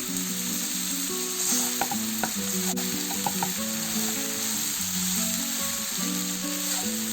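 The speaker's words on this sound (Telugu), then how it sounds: "బాగా కలుపుకొని ఒక 2 నిమిషాలు ఫ్రై లాగా చేసుకున్నాము." Poha fried in a pan for an egg upma, stirred steadily: a continuous close sizzle broken by scattered scraping clicks from the spoon, with tonal music running underneath throughout.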